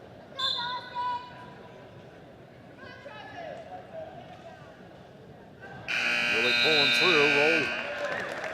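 A loud electronic buzzer sounds at the end of a high school wrestling match in a gym, a sustained harsh blare that cuts in after a stretch of crowd noise and scattered thuds, with an announcer talking around it.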